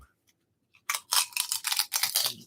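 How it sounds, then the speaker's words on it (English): A burst of loud, close crunching in quick irregular bites, sharp and crackly, following a moment of near silence. "That crunch, though, I'm sure you could hear it, right?"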